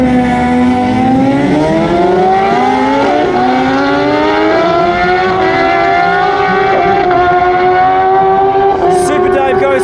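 Motorcycle drag racing at Perth Motorplex, loud engines wailing and rising through gears in steady upward sweeps across the whole stretch, close and continuous with crowd noise beneath.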